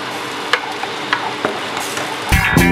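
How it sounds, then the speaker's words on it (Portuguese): Thick pumpkin purée bubbling in a pan, with soft pops and spatters scattered across a steady low simmer, ending in a brief burst of louder sizzling clatter. "O purê, ele começou a saltar já o fundo da panela."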